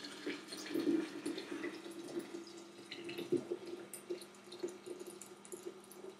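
Boiling water poured over green tea bags in a container for kombucha, a soft trickling, splashing stream with small dripping sounds, quiet and close, alone without talk.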